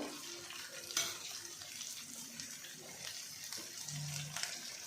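Onion and ginger-garlic paste frying in a pan, a soft continuous sizzle with an occasional stir or clatter, fairly faint and close, no voice.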